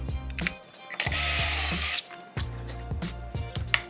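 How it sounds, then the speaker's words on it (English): A power drill whirs in short bursts, spinning up and stopping, with one longer loud stretch of boring pocket holes into wooden boards in the middle. "I have to drill holes on both of these boards right now to connect them to the legs."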